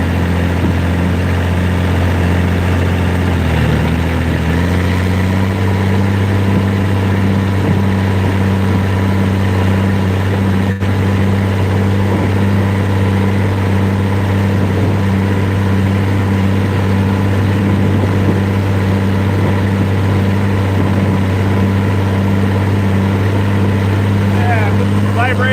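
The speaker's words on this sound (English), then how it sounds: "I love the sound of this tractor" A steady, low tractor diesel engine idling nearby during a soybean harvest, a constant rumbling drone with no change in pace throughout.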